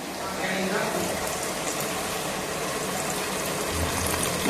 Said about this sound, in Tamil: காய் லேசா வதங்கிறதுக்கு கொஞ்சம் தண்ணி விட்டுக்கலாம்